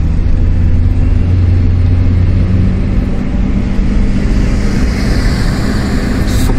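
A 2014 Chevrolet Spark fitted with an aftermarket engine-output booster accelerates, its mid-pitched engine droning steadily and rising slightly in tone, heard close from inside the car without talk.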